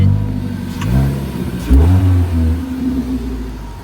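Ford Mustang GT fitted with a Roush RS exhaust revs hard at a car meet, two or three deep throaty bursts rising and falling over a rumbling idle, loud and close with no talking.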